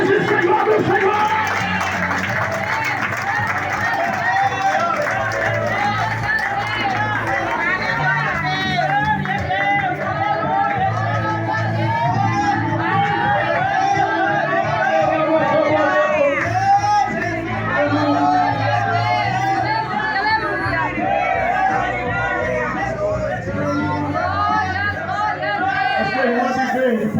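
A Pentecostal church congregation applauds and praises loudly and continuously, with a dense mix of clapping, cheering voices and music, close and full throughout.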